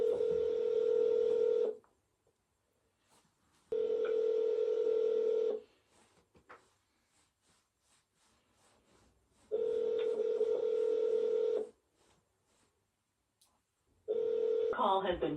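Telephone ringback tone on an outgoing call, repeating steady purring rings about two seconds long with gaps of silence between, heard clearly and alone through the phone line.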